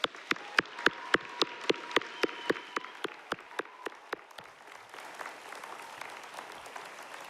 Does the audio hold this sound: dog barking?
no